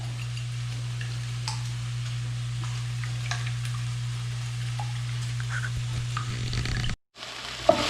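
Peppers and onions frying in a pan, heard as a soft, steady sizzle with faint crackles under a constant low hum, cut by a brief drop to silence near the end.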